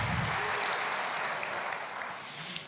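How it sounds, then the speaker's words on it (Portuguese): Steady, dense applause from a church congregation, a continuous wash of clapping throughout with no pauses. "Aplauda o Senhor."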